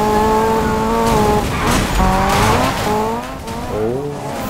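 A car in Need for Speed (2015) slides with the handbrake pulled, tires squealing in a long wavering skid over a revving engine, loud and close with no voices.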